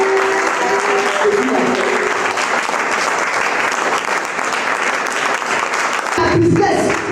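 Church congregation applauding at an Easter service, a dense, steady wash of clapping that fills the whole stretch, with a sung or spoken voice briefly audible near the end.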